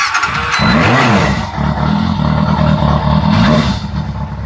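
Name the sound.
Yamaha FZR600 motorcycle engine starting and running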